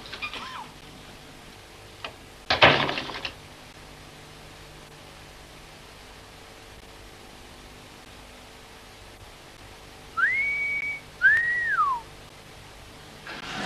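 A few short whistled notes, rising and falling, come after long quiet and a brief noise burst, faint and close.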